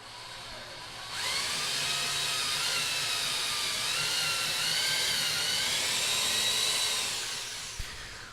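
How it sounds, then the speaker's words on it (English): An electric drill bores through a workpiece for a dance pad build, a continuous high whine that starts abruptly and holds for several seconds with slight pitch wavering before winding down. "So drilling all the way through the second hole now."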